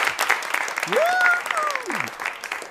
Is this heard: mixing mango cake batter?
no